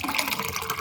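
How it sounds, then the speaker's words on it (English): Warm water poured steadily into a mug, a continuous splashing, filling rush that stays close and even throughout. "So we proceed in adding our water,"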